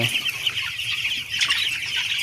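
A flock of broiler chickens in a poultry shed clucks and murmurs in a steady overlapping chorus at moderate volume, with a brief flutter of wings.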